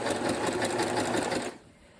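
A sewing machine stitches around the edges of a quilt, a fast, even whirring rattle close by that runs for about a second and a half before stopping abruptly.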